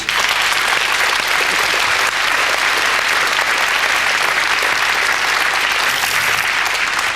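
Loud, dense audience applause after a sleight-of-hand card trick, a continuous wash of many hands clapping at steady volume from start to finish without speech.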